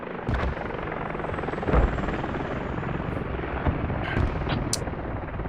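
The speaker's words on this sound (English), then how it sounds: "let's follow the helicopters, see what they're up to" Helicopters fly in a military video game scrimmage, their rotor chop a steady, loud, dense thrum with occasional thuds, alone without voices.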